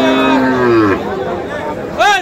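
A bull or cow at a Dinajpur cattle market for Eid al-Adha sacrifice gives a loud, drawn-out moo and then a second, shorter rising call, close by with faint crowd murmur behind.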